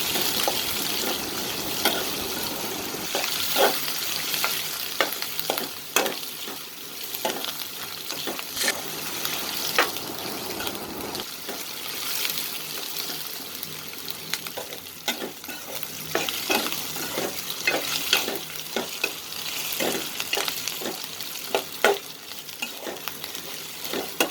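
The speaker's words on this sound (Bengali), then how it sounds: "তারপর পেঁয়াজ রসুন কাঁচামরিচ আদা বাটা দিয়ে দিলাম এখন একটু ভালোভাবে ভেজে নিতে হবে" Onion, garlic, green chili and ginger paste frying in a pan, a continuous close sizzle broken by frequent scraping stirs of a spatula, no voices.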